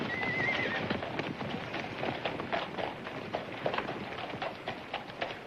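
A horse is led out at an auction, with hoof clip-clops and an occasional whinny heard close by over a busy outdoor background.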